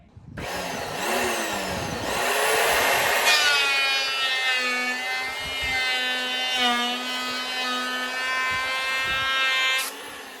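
A wooden sideboard panel being shaved down with a power tool, a loud, continuous grinding whine with a rising and falling pitch that runs steadily for about ten seconds before cutting off.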